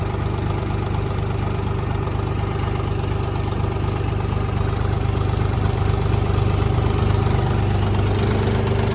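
A Dongfeng 244 tractor from 2021 idles steadily, its diesel engine giving a loud, continuous low throb with a knocking rumble throughout, close by and with no talk over it.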